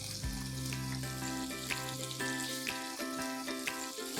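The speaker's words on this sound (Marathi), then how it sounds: "हे पनीर आपण लाईटली सॉटे करून घेऊया" 250 grams of paneer sauté in two tablespoons of hot oil in a pan, a steady moderate sizzle with regular light clicks over gentle background music.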